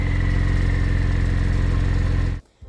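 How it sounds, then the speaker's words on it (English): A Porsche 911 Carrera S with sport exhaust switched on, a steady, deep, throbbing growl heard up close that cuts off abruptly near the end. "you can turn the exhaust on, which gives it a nice growly feel."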